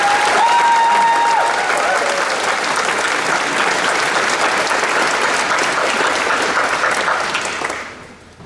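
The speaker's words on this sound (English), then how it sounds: "I think we all should applaud them" A large audience at a chemical engineering graduation ceremony breaks into loud, dense clapping with a brief whistle early on, holding steady for several seconds before fading out quickly.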